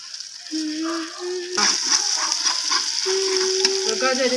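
Chicken frying in a pan at home, with a continuous loud sizzle and stirring noise, while a person talks over it.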